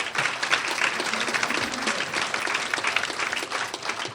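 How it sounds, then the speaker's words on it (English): An audience claps steadily at a political talk by a guest speaker, the sustained applause filling the room with dense, even clatter, a few faint voices underneath. "it's worth applauding"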